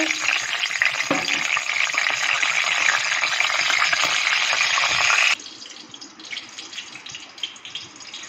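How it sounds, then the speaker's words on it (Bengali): Cloves, cardamom, a bay leaf and dry chillies frying in hot oil in a wok give a loud, steady sizzle for about five seconds, then drop to a quieter, crackling hiss. "তো এটা আমি কড়াইয়ে ফোড়নে দিয়ে দিচ্ছি।"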